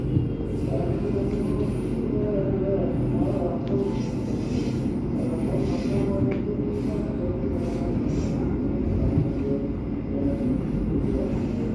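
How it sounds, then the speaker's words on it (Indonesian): A commuter train runs straight through track 4 at Jatinegara station without stopping, giving a steady, loud rumble of wheels on rails with faint squeals, continuous and close throughout with no talk. "Masuk jalur 4 stasiun Jatinegara, kita melintas langsung, tidak berhenti di stasiun Jatinegara."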